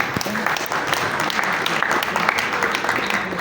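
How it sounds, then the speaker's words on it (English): Dense crowd applause at the Headies awards ceremony, continuous and fairly loud throughout, with a faint voice mixed underneath. "Please, a round of applause for me."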